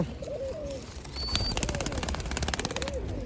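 Pigeons coo softly inside a loft cage, with low rolling calls layered over rustling and scattered chirps, close by and steady, no talking.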